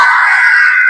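Loud, sustained shout from a group of elementary school children at an Isra Miraj school event, a continuous massed yell lasting under a second with no break.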